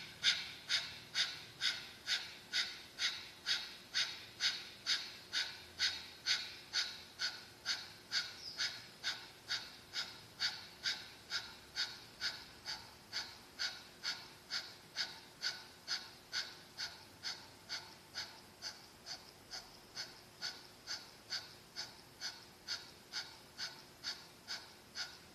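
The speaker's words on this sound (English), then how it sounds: "let's begin with our powerful navel breath of fire" Rapid, rhythmic breath of fire in yogic navel breathing, steady sharp exhalations about two per second for the whole stretch, close and clear with no talking.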